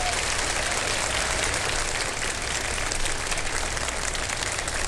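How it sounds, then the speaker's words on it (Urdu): Studio audience applauding on a televised iftar show, steady broad clapping that carries evenly throughout without a break. "ایک مرتبہ آپ کی تالیاں ہونی چاہیے"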